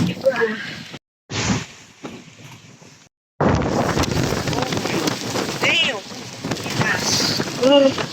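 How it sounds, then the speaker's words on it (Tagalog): Strong wind from Super Typhoon Uwan in Sta. Rosa, Laguna, under Signal No. 3, roars and buffets the microphone in heavy gusts, with a couple of brief dropouts and a short spoken word. "Lakas na ng hangin mga kasama."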